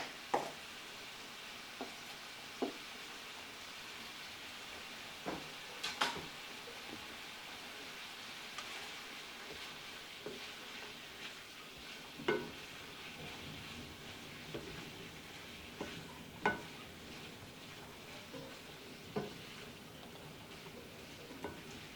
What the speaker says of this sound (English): add my onions to it. Let them go ahead and start sauteing a little bit.